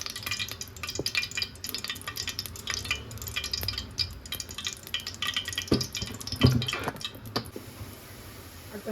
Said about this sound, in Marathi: आता मी तेलामध्ये मस्त मसाला फ्राय करून घेऊ.